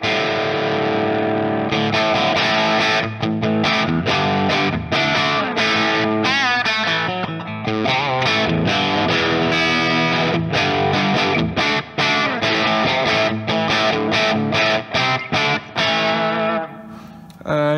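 An electric guitar blasts through a clean pedal-platform tube amplifier with its volume fully maxed, giving a gritty, distorted tone; loud, close strumming and riffing runs nearly nonstop, with no voices.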